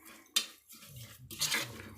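A metal spoon clinks sharply against a pot while Moroccan harira ingredients are stirred and fried, a quiet scrape followed by a second louder burst of stirring and rattling, with no talk.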